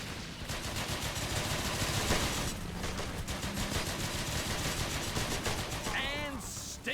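Dense, continuous gunfire in the Blitzkrieg 3 World War II strategy game, with rapid overlapping shots and bursts like machine-gun fire and a fusillade running throughout, loud and steady, with a brief voice-like chirp near the end.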